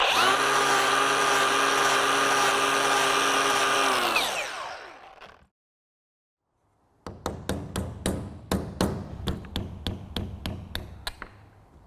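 An angle grinder wears down the cut-off end of an old brake pipe on a Range Rover, a loud steady whine for about four seconds that winds down, then a pause and a run of sharp metallic hammer-like knocks.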